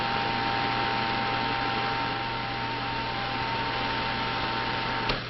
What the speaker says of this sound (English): open the film shoes and run the projector